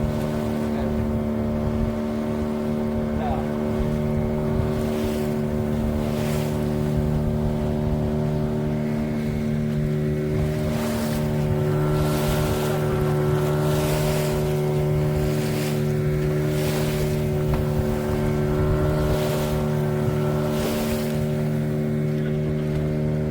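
A fishing boat at sea runs its motor in a steady droning hum, with wind and waves washing against the hull in periodic surges, loud and continuous without talk.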